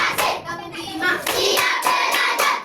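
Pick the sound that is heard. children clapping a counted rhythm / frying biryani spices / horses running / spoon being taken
children clapping a counted rhythm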